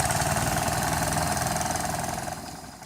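Long-tail boat engines idle and chug steadily on a crowded beach, a constant rough mid-pitched drone with knocking texture that stays loud and close before easing slightly at the end; no voices.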